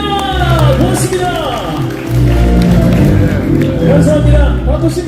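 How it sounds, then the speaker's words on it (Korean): Audience applause at a book launch and book concert for former lawmaker Hong Seok-jun in Daegu, with steady clapping and crowd noise heard beneath an amplified voice speaking over a loudspeaker. "박수 부탁드립니다."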